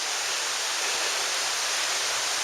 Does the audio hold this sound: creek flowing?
yes